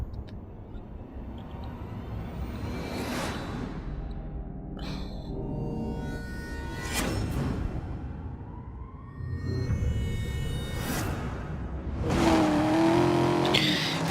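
Race cars in the Need for Speed Most Wanted 2 video game rev and set off through a loud, continuous engine roar, with revving surges, passing whooshes and a brief squeal of tires near the end.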